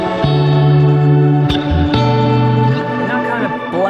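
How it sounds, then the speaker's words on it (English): Sustained electric guitar notes swell into a bright, shimmering wash of reverb with high octave-like overtones ringing above, no voices. "And that is what I use as my shimmer tone."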